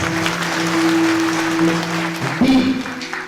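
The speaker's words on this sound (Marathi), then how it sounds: "सर्वांनी जोरात एकदा टाळ्या वाजवा" Applause from an audience at a devotional kirtan gathering, a steady dense clapping that holds for a few seconds alongside a sustained tonal hum, with no voices standing out.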